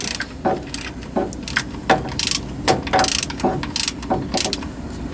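A large ratchet socket backs an oil pressure sensor out of a 1997–2004 Ford F-150 engine with quick, close, rhythmic metallic ratcheting clicks and a few heavier clunks.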